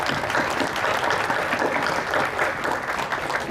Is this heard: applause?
yes